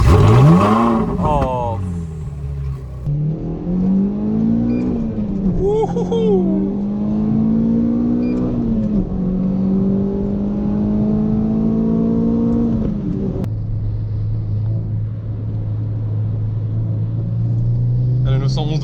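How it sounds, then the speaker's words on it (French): A V8 sports car engine fires up with a sharp rising rev, then swells and dips through several blips before settling into a steady low idle, close and loud; a voice exclaims briefly. "On va se faire aussi le démarrage du V8"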